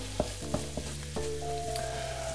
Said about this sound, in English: Heat the oil in a wok, then stir fry the pork, ginger and chilli over a high heat for 5 to 8 minutes until completely cooked through